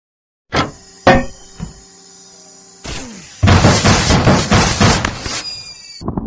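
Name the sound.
SAM turret firing missiles, from the video game Henry Stickmin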